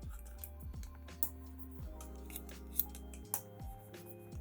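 Scissors snip through craft material for a journal at a desk, a few soft, quiet cuts spaced irregularly against a hushed room.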